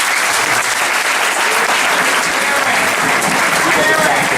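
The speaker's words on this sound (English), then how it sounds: "I think he himself deserves a round of applause," An audience in a school hall applauds the principal at a Grade 11 advisory session. The clapping is dense and steady, loud and sustained for the whole stretch, with no voices standing out.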